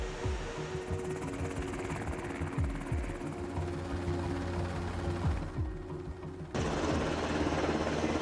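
A Marine Corps presidential fleet helicopter's rotor thuds in a loud, fast, continuous chop with engine whine, the sound swelling abruptly louder near the end.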